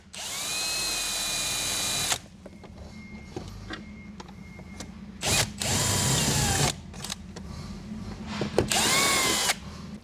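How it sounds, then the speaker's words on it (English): A power drill bores through a car awning bag on an Outback Tourer awning. The motor whines steadily for a couple of seconds, then comes several shorter bursts of drilling between quiet pauses. "we'll run our drill through to go through that bag"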